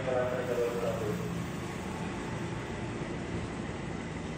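A train passing through Duri Station rumbles past with a steady, broad roar and a faint squeal early on, heard from a moderate distance and fading slightly.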